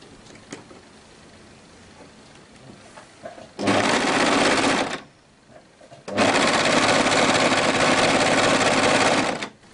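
An overlocker serger stitches skirt fabric in two loud, steady bursts of whirring motor and rapid needle chatter, separated by a short pause with quiet handling noise.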